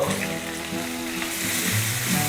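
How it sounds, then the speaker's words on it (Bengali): Ginger and garlic paste frying in a pan for aloo pulao, a steady close sizzle with faint stirring, no voices. "আদা রসুনটা দিয়ে আবারও মিনিট খানেক রান্না করবো"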